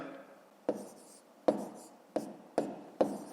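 Pen strokes on paper while working out long division by hand, five short scratchy taps spaced roughly half a second to a second apart, close and fairly quiet, with no talking.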